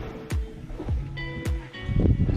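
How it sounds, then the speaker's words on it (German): Water slaps against the stern of a sailboat drifting on the Pacific Ocean with engine off and sails down, sharp, irregular smacks, a few distinct splashes close by with quieter lapping between them. "man hört ja schon das Geklatsche von den Wellen hinten am Heckspiegel"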